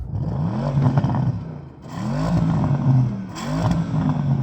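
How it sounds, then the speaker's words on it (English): A Porsche Panamera Turbo S engine revs up hard three times in quick succession, each surge climbing to a soft limiter before dropping back, loud and close with no talk over it. "Go on, rev up the Porsche"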